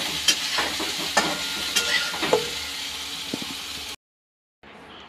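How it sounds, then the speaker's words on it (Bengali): Soybean chunks fry with turmeric and salt in oil in a kadai, a close sizzle broken by a few sharp scraping stirs before the sound cuts out briefly and returns quieter. "সয়াবিনটা ভেজে নিই।"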